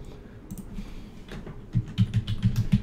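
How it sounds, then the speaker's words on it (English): A computer keyboard is typed on nearby while programming in C++, with scattered keystrokes at first and then a quick, steady burst of clacking keys at the end. "I was typing."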